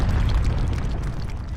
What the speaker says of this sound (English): you hear in the far off distance a gunshot as the water tower comes crashing down